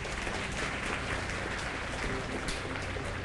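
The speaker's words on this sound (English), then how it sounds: "Let's give the Lord a clap offering." Congregation in a church worship service giving a sustained round of applause as a clap offering, a steady dense wash of many hands clapping at moderate distance with no talk over it.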